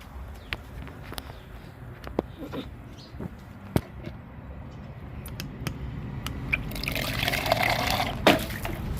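Water poured from a container onto a tree outdoors, a steady splashing wash that builds and grows louder toward the end, with scattered light taps and knocks earlier and no talking.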